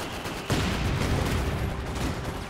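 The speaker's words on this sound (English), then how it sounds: "This is a Vet 2 machine gun here." A veteran machine gun in Company of Heroes 2 opens up with dense, continuous rattling fire amid battlefield rumble, loud and sustained after a sudden onset.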